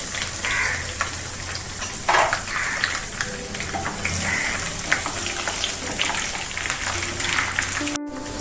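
Onions and green chilli tempering in hot oil in a pan, a loud, steady, close sizzle and crackle throughout with occasional stirring scrapes, no talking.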